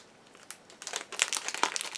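Bikkuriman chocolate wrapper being torn open and crinkled close up, sparse rustles at first building into a dense run of sharp crackles and crumples, with no talk.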